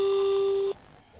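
Phone ringing on a call to Randy, a single sustained electronic tone held loud then cutting off abruptly into quiet.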